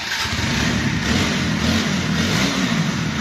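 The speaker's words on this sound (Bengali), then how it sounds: "এখন দেখাবো হচ্ছে গাড়িটির সাউন্ড। স্টার্ট দাও।" A black TVS Apache 4V ABS motorcycle engine running loud and close, a steady throbbing idle with a mild rise in revs, no speech over it.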